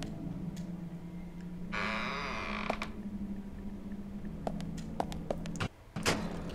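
A wooden door creaks open in the horror video game Deadly Premonition, a drawn-out groan of about a second over a steady low game hum, followed by scattered clicks and small knocks.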